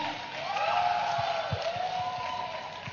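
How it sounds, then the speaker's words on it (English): A festival audience applauds a dance academy's performance, a sustained crowd clapping bed with a few louder claps, while a voice speaks over it. "A big round of applause for Indian Step Up Dance Academy"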